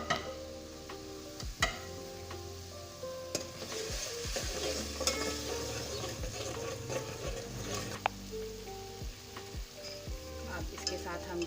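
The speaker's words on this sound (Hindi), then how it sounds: "अब जो हमने प्याज और हरी मिर्च चॉप करी थी वो हम डाल देंगे इसके अंदर और इसको भी अच्छी तरह फ्राई कर लेंगे" Chopped onion and green chili frying in a pan for aloo bharta, a steady close sizzle with frequent utensil clinks and scrapes as the mixture is stirred.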